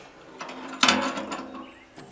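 Hood of a Mahindra Max 24 tractor with a 3-cylinder 1.1-liter diesel being opened: a short mechanical latch clack and creaking metal movement, close and moderately loud, fading into quiet.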